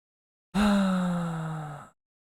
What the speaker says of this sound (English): Yawn.